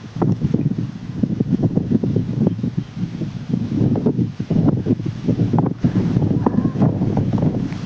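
Strong wind blows outdoors, buffeting the microphone in continuous rumbling gusts that rise and fall, loud and close, with no clear voices.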